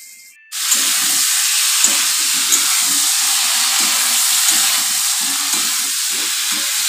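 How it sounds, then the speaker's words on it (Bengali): Potatoes fry in a pan with a loud, steady sizzle and hiss lasting throughout, broken by repeated soft scraping strokes as they are stirred. "আলুটাকে ভাজা হোক"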